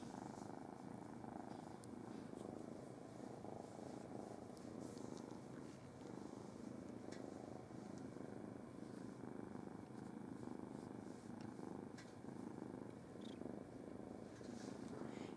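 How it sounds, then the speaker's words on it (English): A rescued female cat at an animal rescue center purrs steadily and softly up close, a continuous low rumbling hum with no talking. "Can you hear him purring?"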